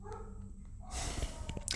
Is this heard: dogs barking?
yes